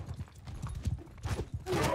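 Cavalry horse hooves clopping in the Mount & Blade II: Bannerlord multiplayer battle, a quick run of repeated low thuds with a louder burst of combat noise near the end and faint talk underneath.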